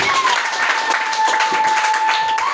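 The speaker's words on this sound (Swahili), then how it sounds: "Mchapia Yesu makofi mengi." A church congregation claps for Jesus during a sermon on the fight of faith, with dense, continuous clapping and a sustained ringing tone underneath.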